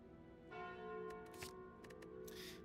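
A relic bell from the video game Slay the Spire rings out, starting with one sustained tolling strike. Shimmering metallic chimes follow in quick succession, with each hit leaving a fading ring behind it.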